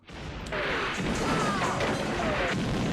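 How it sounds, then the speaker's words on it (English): A loud crash erupts and rolls into a sustained, rumbling blast with scattered debris-like impacts, an explosion in the 1989 film Licence to Kill. "we're finally getting to see explosions."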